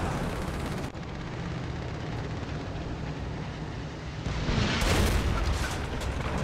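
A 122 mm high-velocity tank gun firing in the tank combat game War Thunder, a heavy boom amid rumbling battle noise, with a sharper, louder blast near the end.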